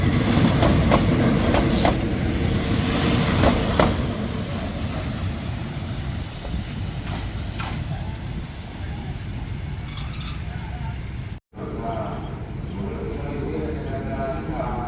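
Train wheels clatter and screech along the rails close by, recorded beneath a Thai passenger train, loud and continuous, with a brief dropout near the end.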